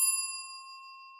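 A single bright notification bell ding rings out clearly and alone, its metallic tone slowly fading over about a second.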